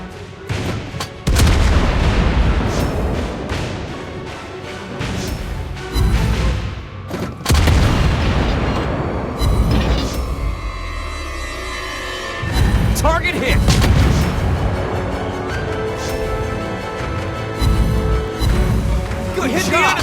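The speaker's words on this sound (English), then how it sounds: "Torpedoes! We hit the enemy!" Torpedo hits on an enemy ship in the naval battle game World of Warships Blitz, aboard the tier VII light cruiser USS Flint: repeated loud booming explosions and gunfire over the continuous roar of battle.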